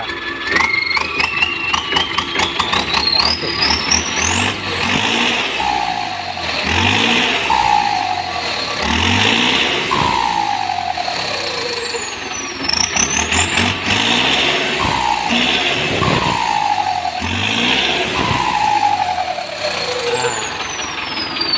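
A New Holland 6600 tractor, newly fitted with a turbo, runs loud and close, its engine rising and falling in repeated revs with a rising turbo-like whine overhead; no talking.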